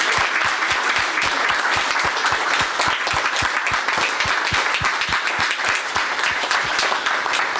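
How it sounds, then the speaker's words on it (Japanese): Loud, continuous applause from a large crowd at a stage event, dense clapping sustained throughout without a break. "拍手を送りたいと思います。"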